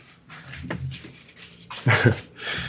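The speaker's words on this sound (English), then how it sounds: "my dogs are barking, man" Several dogs panting and whimpering close by in a home, with a burst of louder, rougher dog vocalizing near the end over a steady noisy background.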